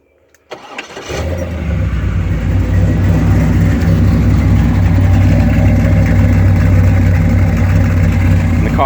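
A 1975 Chevy Corvette Stingray with a swapped LS engine cranks briefly, fires up loudly and settles into a deep, steady rumbling idle, close and alone.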